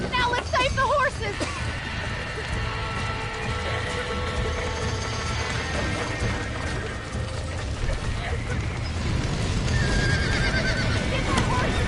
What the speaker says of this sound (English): Now let's save the horses!